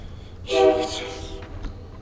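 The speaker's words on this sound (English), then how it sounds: "We got the train here, my man." A train passes with a loud horn blast sounding briefly over rumbling rail noise, fading into continued low rolling sound.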